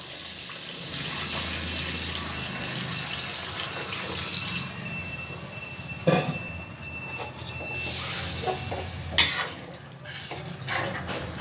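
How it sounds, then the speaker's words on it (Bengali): Water being poured into a pot of raw banana kofta curry, a hissing gush of liquid with clinks of pot and utensils during stirring, moderately close with no talking. "এবার আরও একটু জল আমি দিয়ে দেবো।"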